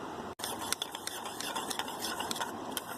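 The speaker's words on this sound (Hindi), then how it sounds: "उसमें थोड़ा सा दूध डाल के अब मैं अच्छे से मिक्स कर रही हूँ" A spoon clinks and scrapes steadily in a small bowl, mixing a little milk into about half a spoon of yogurt starter for homemade yogurt, with close repeated metallic taps.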